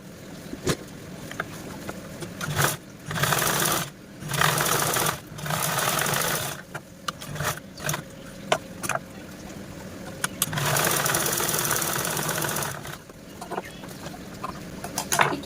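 A sewing machine stitches lace onto blouse fabric in fast whirring bursts of several seconds each, broken by brief pauses and small clicks, close and fairly loud.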